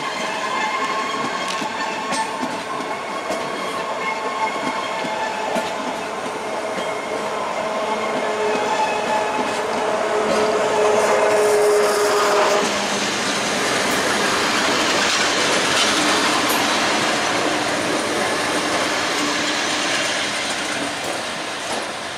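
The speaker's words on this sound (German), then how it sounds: "Der Zug wird gezogen von zwei Triebwagen älteren Baujahrs." Berliner Express train hauled by two older-built railcars, rolling steadily past with loud continuous rail rumble, wheel clatter and rising swell of noise, no talking.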